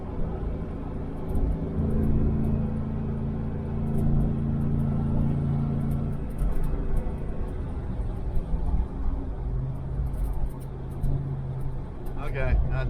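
A 1968 Chevelle Nomad, back on the road after 32 years, drives along with a steady low engine rumble and road noise from inside the car, its tone shifting partway through, while people talk over it.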